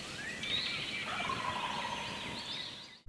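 A lone wild turkey gobbles in one long, rattling call at a moderate distance outdoors, followed by a brief sharp noise at the end.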